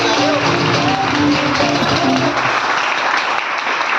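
An audience applauds for Shivaji Maharaj at a motivational talk. The clapping is dense and continuous, holds steady throughout and thins slightly toward the end, with a few voices calling out over it.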